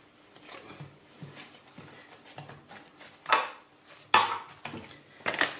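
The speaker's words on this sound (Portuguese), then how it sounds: "E vamos continuar então fazer a nossa massa, misturando sempre." A utensil works through meat rissole dough in a bowl, giving soft scraping strokes and then several sharp clinks against the bowl, irregular and close.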